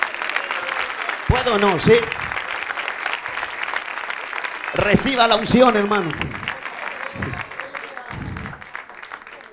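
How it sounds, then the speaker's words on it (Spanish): A church congregation claps in praise during a service: steady, loud applause runs throughout while someone speaks over it in short phrases. "¿Le podemos dar un aplauso de alabanza al Señor?"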